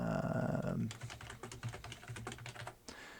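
Rapid typing on a computer keyboard, with a steady run of close, crisp key clicks that follows a brief low hum at the start.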